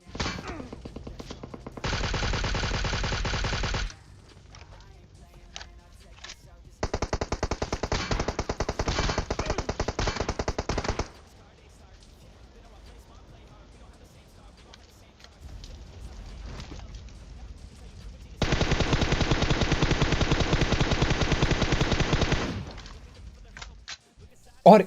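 Automatic gunfire in a PUBG Mobile battle rattles in three long, loud sustained bursts at close range, with quieter gaps between them.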